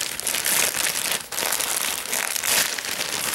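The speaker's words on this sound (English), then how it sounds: "Unwrap it right here." Plastic packaging around a Chicago Bears football jersey is unwrapped close up, loud continuous crinkling and crackling with a brief dip partway through.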